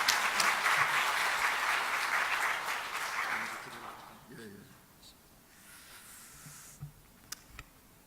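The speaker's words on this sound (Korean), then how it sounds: "할렐루야 하면서 맞이하십시다. 할렐루야. 박수하십시다." A church congregation applauds steadily for several seconds during a Sunday evening service, then the clapping fades away into a quieter room with a few scattered sounds.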